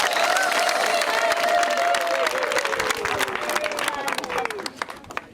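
A crowd at an Umuganda community gathering in Rubavu, Rwanda breaks into sustained applause and cheering, with a voice calling out over the clapping before it thins and fades.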